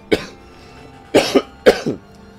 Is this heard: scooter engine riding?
no